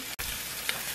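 Sausages fry in a pan with a close, steady hiss and crackle, briefly cut by a short gap and a small pop.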